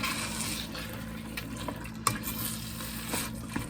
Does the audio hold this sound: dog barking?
no